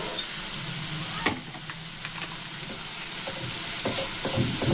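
Masala with boiled chickpeas and a splash of their cooking water sizzles in a pan, a steady hiss broken by spoon scrapes and stirring knocks, close up with no talking.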